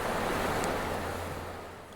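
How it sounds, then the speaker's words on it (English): Glacier-fed Susitna River rushing fast and cold, a steady broad roar of moving water that slowly fades slightly, with no voices. "The Susitna River, born from glaciers, it carries immense power and sediment, cold, fast, and constantly changing the landscape."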